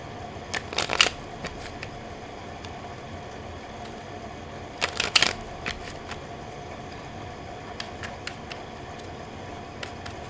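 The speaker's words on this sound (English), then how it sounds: "So I'm going to shuffle a little bit more." Cards are riffled and shuffled in two quick bursts, followed by a few soft, scattered taps and flicks, close and fairly quiet.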